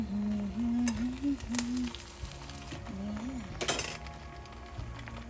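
Smashed burger meat sizzles steadily on a grill over a fire, with a few scrapes and clinks of utensils. A low humming tone runs through the first half.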